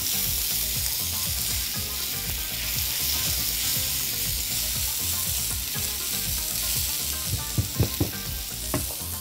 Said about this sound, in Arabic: تقريبا نفس التقليه بتاعت البصل الكشري